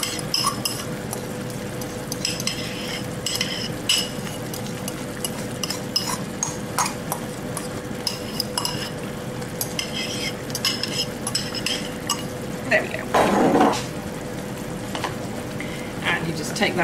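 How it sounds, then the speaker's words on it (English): Beans and bean mash are stirred and broken up in a hot pan, giving a steady sizzle under scraping and occasional utensil clinks, with a louder scrape near the end. "Take that in and stir it up and break up the bean mash."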